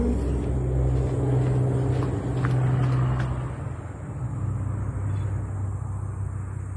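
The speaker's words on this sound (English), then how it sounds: "There's a truck." A truck rolling past on a road outside a workshop, a steady loud engine rumble that swells and eases slightly as it goes by, with no talk.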